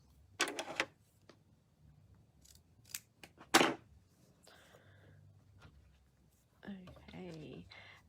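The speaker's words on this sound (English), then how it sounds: "So I will cut there. So I'm just cutting 2 pieces." Scissors cutting two pieces of elastic for a book cover project, a few short crisp snips separated by pauses, with a voice talking quietly around them.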